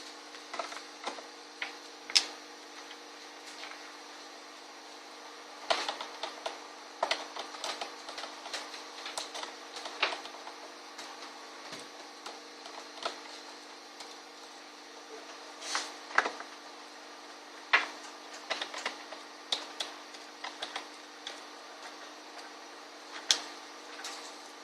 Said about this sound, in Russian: Откручиваем болты.